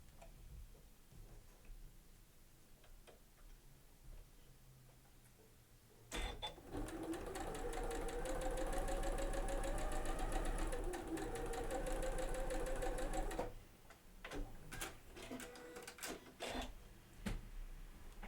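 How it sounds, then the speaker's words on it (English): A sewing machine runs a scant quarter-inch seam through quilting fabric in one steady, rapid stitching burst lasting several seconds, framed by quiet handling clicks and rustles before and after. "I'm just going to run them under the machine using what I believe my machine's scant 1/4 inch seam is"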